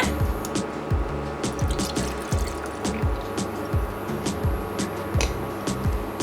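Milk and other liquid splash and drip into a saucepan in a steady stream of irregular plops and gurgles, fairly loud and close, with no voices.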